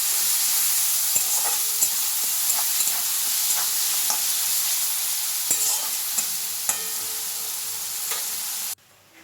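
Spice paste for potol chingri dorma, made with fried onion and tomato, sizzles in a hot pan while a spoon scrapes and stirs it in repeated sharp strokes over a constant frying hiss.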